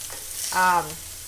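Filet mignon steak sears in a hot pan with a continuous close sizzle, and a short tonal whine-like voice or squeak rises briefly over it in the middle.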